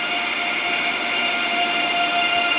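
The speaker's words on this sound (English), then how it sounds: "so we're on that morning ICE train" ICE train at a station in the early morning, a steady loud rumble and hum with a high electrical whine running throughout, continuous and close, with no talk.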